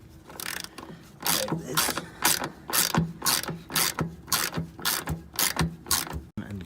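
A ratchet wrench with an 18mm socket loosens bolts on a semi truck suspension, giving a steady series of about a dozen close, sharp ratcheting clicks in even rhythm, with a few words spoken.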